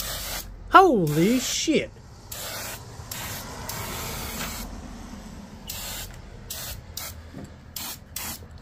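A turbo spray paint can discharging in bursts, loud hissing sprays separated by short pauses, with a man exclaiming loudly near the start over the spray.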